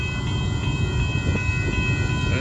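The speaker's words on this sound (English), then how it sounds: "Here comes the northbound train." A northbound Union Pacific mixed freight train rumbles past at Dittmar Road in Austin, Texas, with a loud, continuous heavy rolling roar and faint wheel clatter close by.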